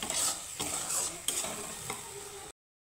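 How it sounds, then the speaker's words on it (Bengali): Vegetarian spiny gourd (kakrol) stuffing frying in a pan, a steady close sizzle broken by several scraping stirs, cutting off abruptly near the end. "এখানে আমার পুরটা সুন্দরভাবে আমি ভেজে নিচ্ছি"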